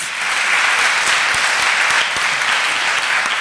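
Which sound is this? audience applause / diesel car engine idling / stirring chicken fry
audience applause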